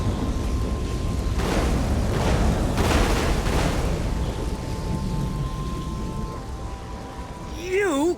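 A lightning spell in the Elder Scrolls Online game unleashes a roaring burst of thunder over steady rain-like crackling noise, loud and dense, with a brief voice sound near the end.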